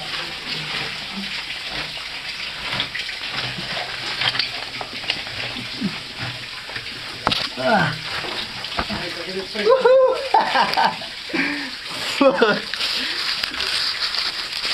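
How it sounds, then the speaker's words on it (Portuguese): A waterfall roars inside the Algar dos Carvalhos lava cave as a constant, echoing wash of noise, while people talk over it throughout. "Filmar aqui é a cascata que está brutal."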